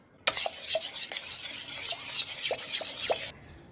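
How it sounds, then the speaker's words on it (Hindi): A spoon stirs maize flour into a sour yogurt mixture for Rajasthani makka ki raabdi. Close, continuous wet swishing and scraping runs for about three seconds, with light clinks against the vessel, then stops abruptly; no one speaks. "अब इसे मिक्स करेंगे।"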